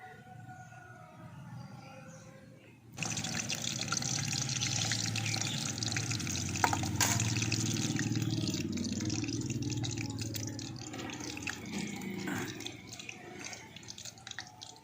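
Bread pantua sweets drop into warm white oil, and a steady bubbling sizzle starts abruptly and continues evenly, fairly close, with no one talking.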